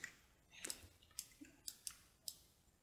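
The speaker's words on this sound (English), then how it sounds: "I can just double click on that" Computer mouse clicks while editing in Photoshop, several short, crisp taps spaced irregularly, very quiet and close against a near-silent background.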